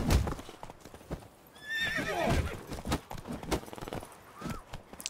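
Horses in the video game The Witcher 3 clip-clop in a steady walking rhythm, with a clear whinny in the middle and another short neigh near the end.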